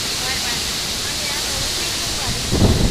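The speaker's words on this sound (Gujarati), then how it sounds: "પવન તો જો પવન" Strong wind blows across a hilltop near a temple, a loud steady roaring rush buffeting the microphone, with a brief gust swelling near the end.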